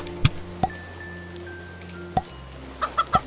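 Chickens in the CHKN video game cluck in several short, sharp bursts, a few isolated calls early and then a quicker cluster near the end, set over a steady low background hum.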